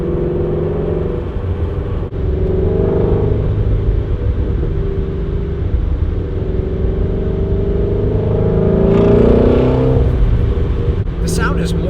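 Shelby GT350 fitted with a Corsa X-pipe exhaust rumbling loudly and steadily, the engine note rising toward the end, with a voice talking over it.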